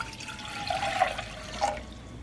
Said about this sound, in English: Alright, so that's 2 cups of water, if you guys can see. And we're going to add it into our pot right here.